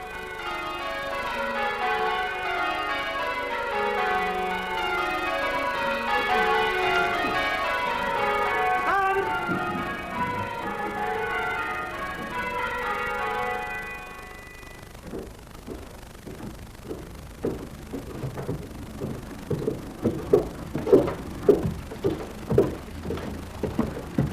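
Several church bells peal during a bell-ringing practice in overlapping, cascading sequences for a long stretch, then give way to scattered, uneven strikes as the ringing breaks down.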